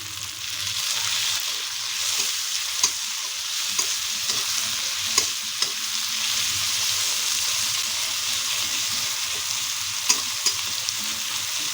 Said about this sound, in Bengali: এবার টমেটোটা গলবে, ততক্ষণ পর্যন্ত নাড়িয়ে যেতে হবে।